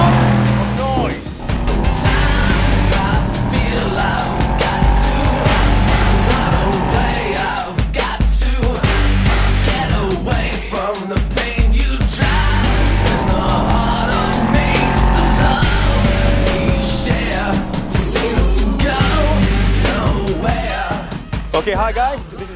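A Mercedes-Benz SLS AMG supercar, over 500 horsepower with 880 Nm of torque, rumbles loudly and continuously with revving surges throughout, while people talk over the engine noise.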